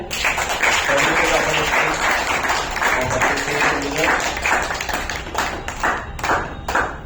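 Enthusiastic audience applause at an award ceremony, a sustained dense wash of clapping that thins toward the end, with voices and cheering mixed in.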